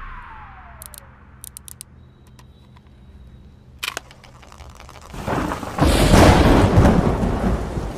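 In a Kannada film scene, a few sharp clicks and taps sit over a quiet hum before a heavy crash of thunder breaks in and rain roars loudly to the end.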